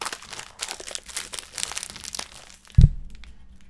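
Crinkling plastic wrapper of an Oreo biscuit package, continuous rustling handled close up, ending in a single louder thump, then quiet.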